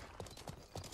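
Hooves of a magic horse in a video game clip-clop in a steady rhythm of soft thuds, three clear strikes in quick succession with a faint background hum and no voices.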